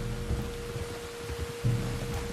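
Steady rain falls in Red Dead Redemption 2, a soft continuous hiss close around the listener, with a low mechanical hum and faint thuds beneath.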